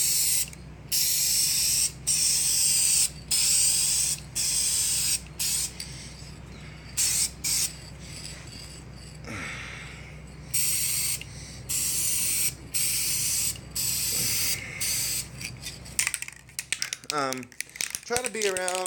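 Bursts of aerosol spray paint hiss onto a 1/25 scale 1940 Willys model in short repeated pulses with brief gaps, close by, followed by faint clicks and handling noises near the end.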